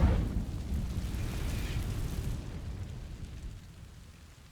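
A fire spell cast in the Hogwarts Legacy video game opens with a loud burst that settles into a roaring, rumbling whoosh, then gradually fades over a few seconds.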